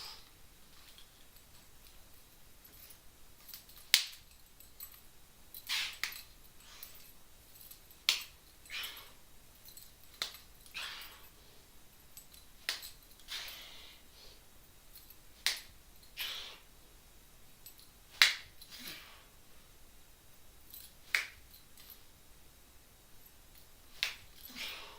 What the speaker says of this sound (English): Just a few clap push-ups to show you guys how to do a clap push-up